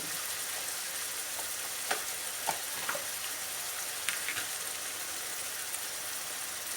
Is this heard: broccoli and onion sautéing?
yes